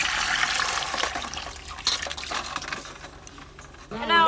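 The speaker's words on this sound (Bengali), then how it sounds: "ডিমে একটু ঠান্ডা জল দিয়ে দিই" Cold water pours over freshly boiled eggs in a cooking pot, a steady splashing, trickling stream that fills the moment and surges a little louder at the very end.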